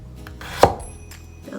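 A kitchen knife makes one sharp chop through a hard carrot, a single loud crack against a cutting board amid faint quiet kitchen background.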